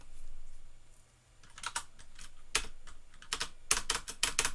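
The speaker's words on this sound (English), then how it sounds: "Notice I'm spamming the spacebar" Spacebar on a computer keyboard pressed again and again while testing a jump in Unity, giving quick clicky taps in irregular clusters, close and fairly quiet, with no talking.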